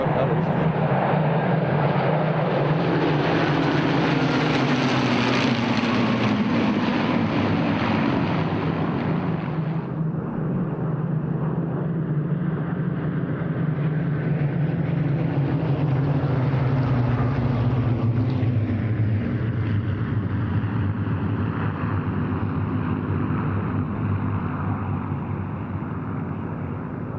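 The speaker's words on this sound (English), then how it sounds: "A formation of no fewer than 16 Supermarine Spitfires." Sixteen Supermarine Spitfires fly over in formation at a Duxford air show, a loud, sustained piston-engine drone that rises and sweeps past with a clear pitch drop, then lingers as they draw away.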